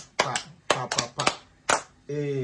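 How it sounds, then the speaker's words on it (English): Children clapping for a small child at home, a handful of sharp claps in a few separate bursts with short spoken chants between them and a voice at the end. "Clap for Papa"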